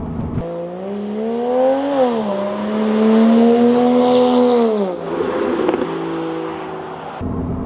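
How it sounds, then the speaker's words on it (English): A Porsche Cayman sports car of about 300 horsepower driving on a wet road, its engine note climbing and holding steady, loud and close, then easing off before cutting out. "I'm on the road in a car with 300 horsepower."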